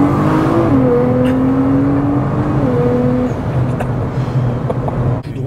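A tuned Nissan GT-R making 800 horsepower revs and accelerates from close by, a steady loud engine drone with rising tone shifts across gear changes, heard alone.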